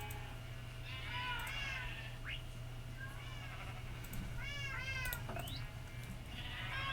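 A cat meows repeatedly while being fed in a video game, the calls rising and falling in short clusters over a steady background hum, moderately loud and close.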